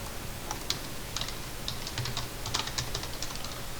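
AutoCAD shortcut keys typed on a computer keyboard: scattered, crisp key clicks in irregular bursts, close and fairly quiet, with no talking.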